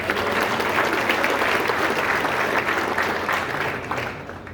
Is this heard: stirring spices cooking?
no